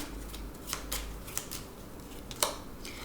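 Tarot cards drawn one by one from a deck, giving a few soft, crisp papery snaps and slides spaced over a quiet background.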